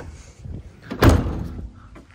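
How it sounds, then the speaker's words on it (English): The sliding side door of a Ram Promaster high-roof cargo van rolls and shuts with one loud, close thud, then a short rumbling fade. "Nice sliding door."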